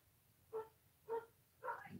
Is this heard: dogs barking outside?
yes